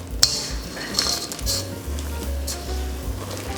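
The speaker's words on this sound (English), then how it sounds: "you're gonna go ahead and mix the chocolate chips into the batter" A spatula folds chocolate chips into cookie batter in a bowl. Close scraping and handling noise run throughout, broken by a few sharp clinks against the bowl.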